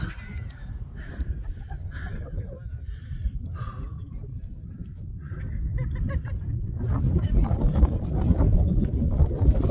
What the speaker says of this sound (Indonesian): Ini anginnya boleh gede.